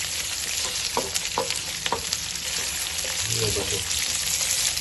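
Green chillies, slit down the centre, roasting in a pan for mirch masala, with a steady close sizzle and frying crackle throughout and a brief voice speaking over it.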